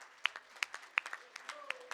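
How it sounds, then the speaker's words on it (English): Scattered applause at a school board meeting, a small group clapping in sparse, uneven claps, fairly faint and close. "how about another round of applause?"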